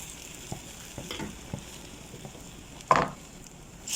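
Cooked pasta is stirred into a tuna pasta sauce in a pan, giving soft, intermittent wet scrapes and stirring sounds over a faint sizzle, with one louder clatter of utensil against pan.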